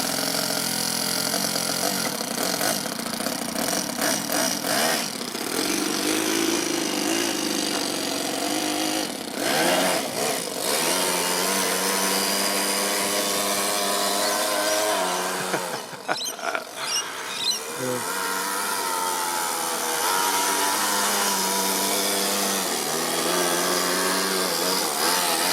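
RC car fitted with a four-stroke overhead cam engine running on dirt, a continuous buzzing whine that rises and falls with throttle, briefly sputtering mid-run before revving on.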